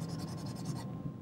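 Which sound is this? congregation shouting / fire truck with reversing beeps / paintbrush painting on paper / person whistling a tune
paintbrush painting on paper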